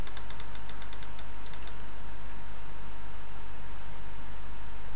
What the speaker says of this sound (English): Keep clicking, that's always the solution